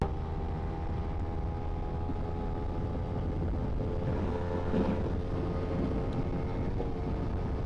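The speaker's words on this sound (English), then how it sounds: "fifth gear pull, we'll take it up to 80-ish miles an hour, no problem" A 250cc motorcycle drones steadily in fifth gear at highway speed, heading toward about 80 mph, with a constant engine hum under heavy wind rush.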